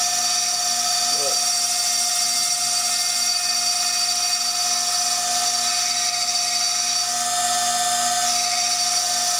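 A high-speed rotary engraving tool spinning around 40,000 RPM cuts into a glass beer bottle, giving a loud, steady, piercing whine that runs unbroken throughout.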